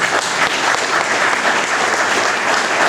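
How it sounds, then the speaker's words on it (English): A crowd at a political anniversary celebration applauds loudly, a full, continuous roar of many hands clapping that stays level throughout with hardly any voices. "please applaud Bill Thomas."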